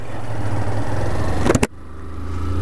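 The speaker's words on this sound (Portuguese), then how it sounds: "Vou meter marcha então agora. Acelerar a Phaserzona." A Honda CG 160 Fan 2022 motorcycle, engine droning steadily and close, then a sharp break and a couple of quick bursts as the gear shifts, followed by the engine picking up again.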